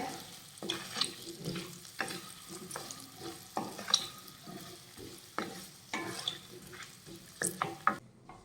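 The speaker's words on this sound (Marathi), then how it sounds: "आणि हे मिक्स करून घेऊया तर हे छान असं मिक्स करून घेऊया" Peeled, chopped raw mango pieces are stirred and mixed in a pan for methamba: a rhythmic run of spoon scrapes and soft clatters over a faint sizzle, with no talking.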